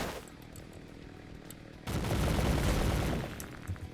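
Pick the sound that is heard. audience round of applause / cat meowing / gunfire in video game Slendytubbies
gunfire in video game Slendytubbies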